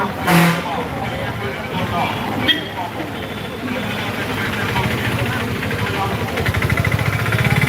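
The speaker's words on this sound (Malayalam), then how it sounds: "അതിൻ്റെ കൂടെ വണ്ടികളുടെ തിരക്ക്" Busy road traffic near Guruvayur Temple in the morning, engines idling and passing vehicles rumbling close by, a tanker lorry among them, with people talking over the noise and a brief sharp hiss partway through.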